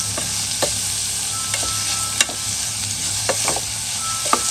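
Onions and mutton fry in a pan with a constant close sizzle, punctuated by sharp scraping clicks of a spoon stirring the pieces.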